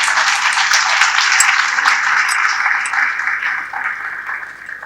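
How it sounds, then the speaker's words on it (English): Loud, dense applause from an audience for Dharmendra, a steady wash of many hands clapping that gradually thins and softens toward the end. "So a big round of applause to him."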